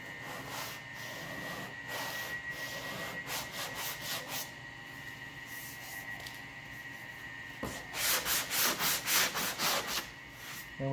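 An 80 grit stick-on sanding block rubs over the C-pillar bodywork of a 1969 Sport Satellite, making steady raspy back-and-forth strokes, with a louder, quicker run of strokes near the end.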